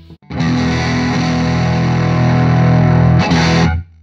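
Loud, distorted electric guitar through an H&K Spirit Nano amp in a room, one thick held chord or note sustaining for several seconds, a brief break, then a final swell before it cuts off abruptly.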